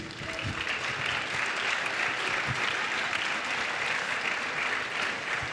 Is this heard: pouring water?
no